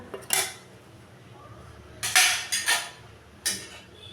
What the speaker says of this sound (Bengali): মিশিয়ে নিলাম ভালো করে